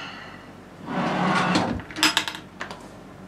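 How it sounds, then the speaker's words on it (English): Carved wooden drawers on a Sri Lankan houseboat slide open with a soft scraping rush, then bump shut with a few close, hollow knocks and rattles. "Just the drawers."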